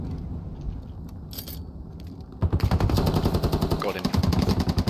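Gunfire in the military shooter Squad, scattered distant shots at first, then dense rapid bursts of close automatic fire that keep going to the end.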